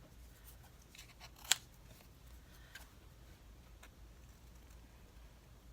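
Scissors cutting out paper stickers, quiet snips with one sharper clip standing out in an otherwise hushed room.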